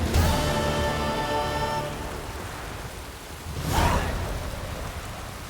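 Steady rain hisses across the whole scene in The Witcher 3: Wild Hunt, with a rumble of thunder swelling briefly near the end; a sustained tonal drone fades out early on.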